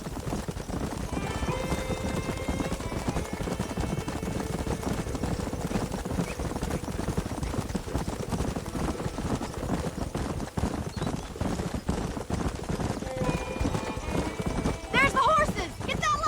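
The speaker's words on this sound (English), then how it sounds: "There's the horses! Get that lasso ready!" Hoofbeats of several galloping horses in the Western video game Red Dead Redemption, a rapid rolling clip-clop throughout with a horse whinnying, game music and voices talking over it.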